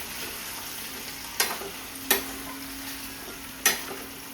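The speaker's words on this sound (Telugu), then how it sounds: "ఫస్ట్గా అయితే వంకాయల్ని కొంచెం ఆయిల్లో ఫ్రై చేసుకున్నాను" Eggplant fries in oil with a soft, steady sizzle and a faint hum, broken by three sharp clacks of a utensil against the pan at uneven intervals.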